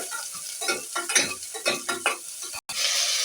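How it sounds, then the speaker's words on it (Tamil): Shallots and a chili tempering in hot oil in a pan, giving close bursts of sizzle and stirring scrapes in an uneven rhythm, then a brief cut and a steady hiss. "சிறிய வெங்காயம், மிளகாய் ஒரு மிளகாய் தாளிச்சிக்கிறோம். எண்ணெயில் தாளிச்சிக்கிறோம்."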